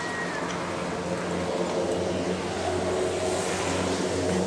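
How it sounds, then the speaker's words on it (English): A small Harbor Freight air compressor rated at 100 psi runs steadily with a constant motor drone and mechanical rumble, close and unbroken, with no talking over it. "This compressor I got from Harbor Freight"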